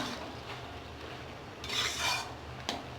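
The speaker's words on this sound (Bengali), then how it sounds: "নাড়াচাড়া করে মশলাটা মিশে যাবে।" A spoon stirring spices through cabbage curry in a pan, a soft scraping and rubbing over a low background hiss, swelling louder for a moment toward the end before a brief sharp scrape.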